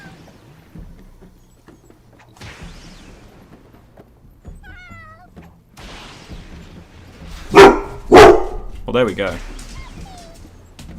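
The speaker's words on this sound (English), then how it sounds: "Those are the noises the dog makes." A dog barks loudly twice in quick succession, close by, with softer whimpering sounds around them, and people speak over a quiet background.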